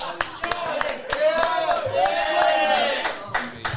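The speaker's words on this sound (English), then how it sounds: "Give a round of applause." An audience at a podcast recording claps and cheers as a guest comes forward, with scattered sharp claps and whoops mixed under overlapping voices, moderately close.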